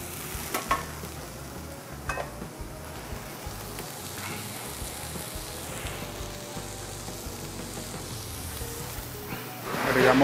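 Mojarra fish browning in a frying pan as a low, steady sizzle crackles throughout, with a few sharper clatters near the start and a louder burst of frying at the end.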